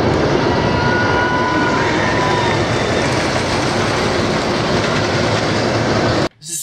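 The Wild One, a century-old wooden roller coaster, roars past with a loud, continuous rumbling rush of wheels on track, broad and steady for several seconds before cutting off abruptly.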